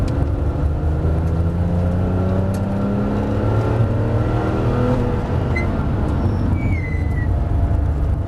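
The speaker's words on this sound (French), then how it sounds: "Allez, mets le gaz et on accélère." A Porsche 997 GT3 Club Sport engine roars steadily, its pitch climbing as it accelerates, loud and close throughout with no pauses.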